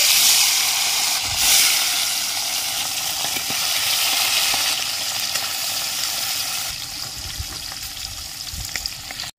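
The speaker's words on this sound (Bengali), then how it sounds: "আমি এবার মাছগুলো ভেজে নিচ্ছি।" Bata fish fry in hot oil in a wok, producing a loud, dense, steady sizzle throughout, with occasional soft taps and scrapes of a spatula; no one speaks.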